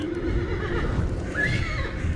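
A horse neighs in a dramatic fantasy battle scene, a clear whinny rising over a dense, steady background rumble with no talk.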